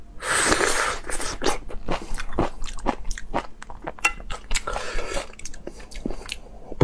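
Close-up eating of stewed pork and mushrooms with spicy noodles, with wet chewing, biting and crunchy squishing sounds in an irregular rhythm and no talk.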